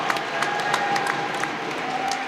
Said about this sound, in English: all hanging round to applaud the team